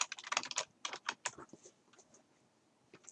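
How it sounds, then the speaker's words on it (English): Fingers type on a computer keyboard in quick irregular clusters of soft clicks, close and quiet, with a brief pause before a few more keystrokes. "I can type here."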